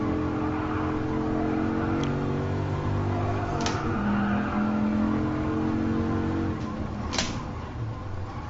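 Race cars in Gran Turismo Sport with steady engine drone and tire slide noise, plus a few sharp transient squeals, continuous throughout at moderate level.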